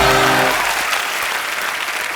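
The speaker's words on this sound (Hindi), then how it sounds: "जोरदार तालियां होनी चाहिए यार।" Studio audience on a comedy talk show bursts into loud applause, a dense clapping roar that starts strong and holds steady to the end, with a brief tone fading out at the start.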